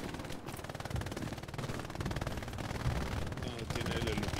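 Rapid machine gun bursts crackle in Hell Let Loose, dense and continuous, with a voice talking over the gunfire throughout.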